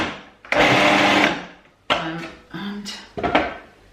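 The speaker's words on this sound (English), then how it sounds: "so it's all back in the food processor. Just give it a wee pulse to mix it all" A food processor pulses wild garlic pesto in several short bursts: one long whirring run, then three quicker choppy pulses with brief pauses between.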